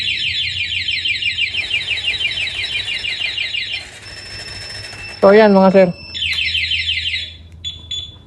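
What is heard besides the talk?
Kawasaki Barako motorcycle anti-theft alarm triggering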